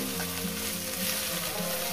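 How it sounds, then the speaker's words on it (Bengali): Mustard greens frying in a pan, giving a steady, dense sizzle that holds at even loudness throughout, with soft stirring scrapes and no voices. "আমি শাকটাকে মিনিমাম 4-5 মিনিট ধরে ভেজে নিয়েছি"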